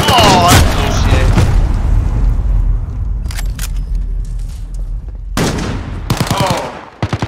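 Gunfire in Call of Duty Modern Warfare, loud rapid shots and bursts close up, with players talking over parts of it and a quiet stretch in the middle.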